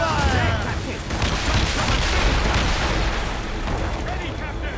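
Ship cannons boom in a dense, continuous barrage during a naval battle in Assassin's Creed Rogue, loud and rumbling with overlapping blasts.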